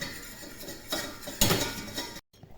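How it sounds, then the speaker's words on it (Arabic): Butter and flour stirred together in a pot for a gratin, giving close scraping and clinking of a utensil against metal in uneven strokes, then a sudden stop, without any talk. "كنحرك هكا الزبده مع الطحين اللي درت باش يطيبوا"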